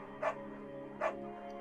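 A beagle in the video game Firewatch barks twice, two short clear yips about a second apart, close and alone over a steady low hum of game ambience.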